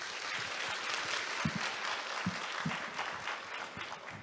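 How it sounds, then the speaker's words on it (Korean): Audience applause at a climate-satellite science forum greeting a lecturer, steady clapping from a sizable crowd with a few louder nearby claps standing out, no voices. "큰 박수 부탁드립니다."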